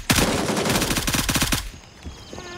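Fast automatic gunfire in the shooter game Gray Zone Warfare, a loud close burst of evenly spaced shots lasting about a second and a half, then cutting off to quieter ambience.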